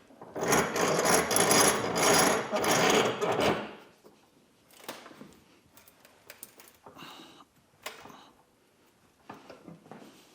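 A loud, steady mechanical whir of a drill boring into the wood of an old axe handle for about four seconds, followed by scattered scraping and knocking of tools.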